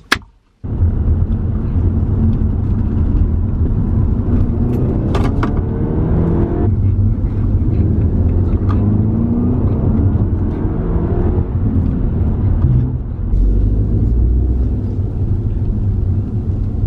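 A car drives past outside, its steady engine rumble holding loud and close for most of the stretch with slight shifts in pitch as it moves, no voices over it.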